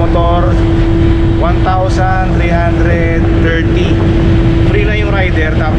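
Engine of an inter-island shipping vessel carrying riders and motorbikes near Cebu, a steady loud drone with a strong sustained hum, with people talking over it throughout.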